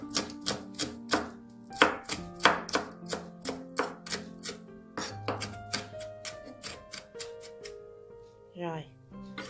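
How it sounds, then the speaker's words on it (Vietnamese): A knife taps rapidly and repeatedly on a cutting board, mincing food in quick uneven bursts while someone talks over the chopping. "Bây giờ mình sẽ đập này ra, mình sẽ cắt nhuyễn nha ha."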